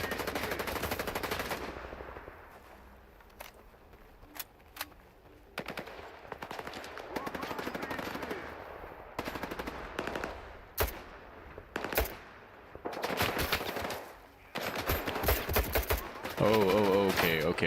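Bursts of automatic gunfire in the shooter S.T.A.L.K.E.R. 2, sharp rattling volleys and single cracks scattered across a quieter background, some loud and close, others fainter, with occasional talk between them.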